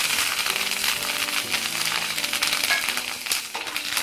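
A ghee tempering for ghee pongal fries and sizzles in a pan, a steady, fairly soft crackling hiss that holds evenly throughout with small pops scattered over it.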